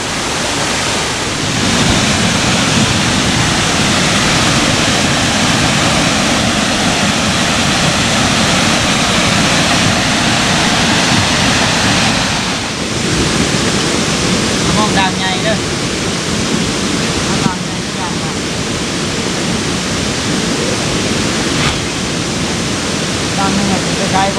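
A forest waterfall gives off a continuous loud rushing roar that fills the whole stretch, with people talking underneath it.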